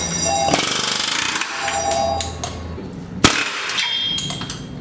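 Pneumatic air hammer working an exhaust bolt during a Tomei exhaust install on an Infiniti G37, giving a dense sustained rattling chatter with one sharp metallic clang near the end, close and loud.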